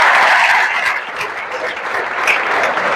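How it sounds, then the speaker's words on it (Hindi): A large audience at a coaching institute's selection celebration breaks into loud, continuous clapping that starts strong, eases slightly, then holds steady to the end. "चलो जोरदार तालियां।"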